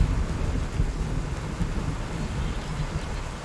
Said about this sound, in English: I'm hearing thunder, but I don't know if it's in the game or if it's near me